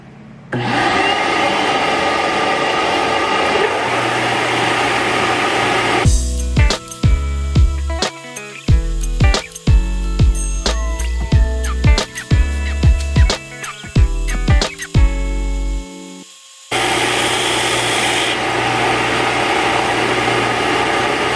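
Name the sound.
6-inch belt sander shaping oak wood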